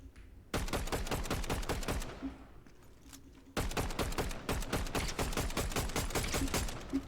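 Dense bursts of rapid gunfire from a Fortnite match crackle in two long volleys, with a brief lull between them, loud and close throughout and with no talking.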